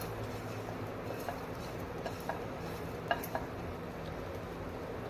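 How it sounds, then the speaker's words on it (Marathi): Grated coconut stirred in a hot pan as it roasts, giving a steady soft scraping with faint sizzle and a few light taps of the spoon against the pan, fairly quiet. "मिनिटभर आपण खोबरं देखील व्यवस्थित आधी परतून घेऊया"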